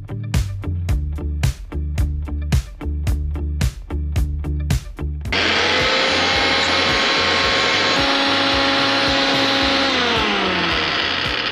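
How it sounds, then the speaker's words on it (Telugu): Kitchen mixer grinder blending spinach, garlic and green chili into paste: rapid rattling pulses at first, then a loud continuous whirring motor drone with steady pitch, close and alone. "సో అది మిక్సీ పట్టేస్తారు."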